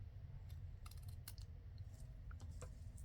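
Scissors snip through a strip of lace for a card pocket in a crafting session, a few short crisp cuts spaced unevenly over a steady low background hum.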